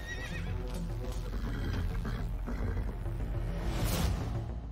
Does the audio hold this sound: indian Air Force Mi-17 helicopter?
no